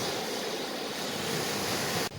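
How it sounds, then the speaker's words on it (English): Strong wind roars across a beach during a wind warning, a loud, steady broadband rush with surf-like noise, ending in a sharp cut near the end. "Well, it is windy and there's a wind warning."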